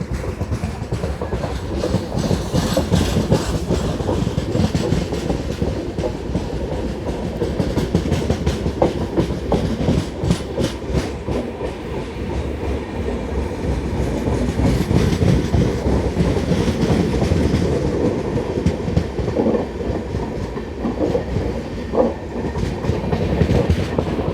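Steady wheel rumble and rhythmic clatter come from a MEMU express train on the Narasapur to Rajahmundry line near the outskirts of Nidadavolu junction. The noise stays continuous and fairly loud, swelling slightly midway, with no voices.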